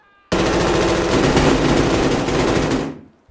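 A loud, sustained burst of automatic gunfire rattles in a video game shooter, lasting a few seconds before cutting off abruptly.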